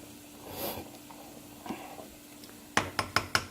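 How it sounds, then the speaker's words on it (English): Noodles are stirred in a pot with a utensil, giving soft scraping and sloshing at first, then a quick run of about five sharp metallic clinks against the pot near the end, close and fairly quiet. "make sure you stir the noodles so they're not stuck to the bottom"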